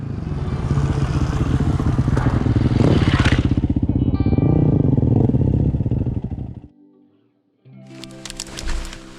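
A 2007 Yamaha WR450 dual sport motorcycle engine runs loud and close with a throaty, pulsing rumble that rises and falls, cuts out briefly, then returns with clatter.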